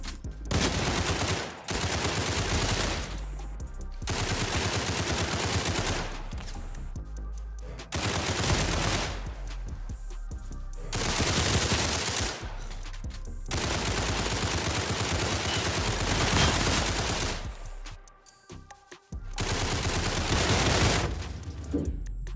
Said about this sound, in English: I keep getting shot from every single angle